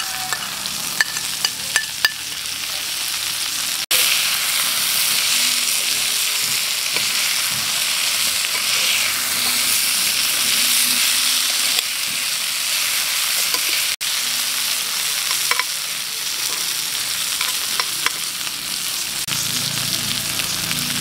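Eggplant sizzles loudly and steadily in a hot pan with white onion and long chili, a dense continuous crackle with occasional small pops and clicks throughout.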